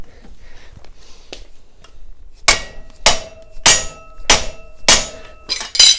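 Hammer blows striking a flat track motorcycle's knock-off wheel nut, with six sharp metallic whacks in irregular rhythm that ring briefly with a faint clink. The strikes are loud and close, with no speech.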